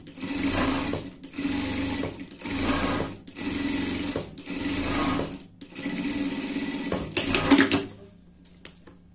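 Sewing machine stitching the seams of a small panda costume for a pet, running in five or six steady bursts of about a second each with short pauses between, close and clear, ending in a few handling clicks.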